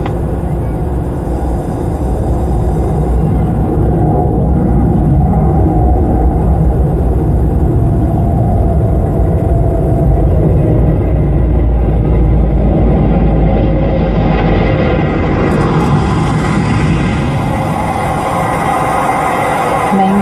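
Space shuttle on final glide path approaching touchdown, a loud continuous low-frequency roar and rumble holding steady for the whole stretch, with a faint hiss rising toward the end.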